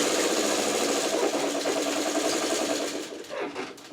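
Sewing machine stitching a quilt seam on a Churn Dash block, a close, fast, even whirring hum that slows and breaks up toward the end.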